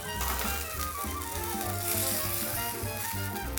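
Spiced food seasoned with plenty of black pepper sizzles steadily in a hot pan as it cooks down, a close, continuous hiss sitting over a low humming background.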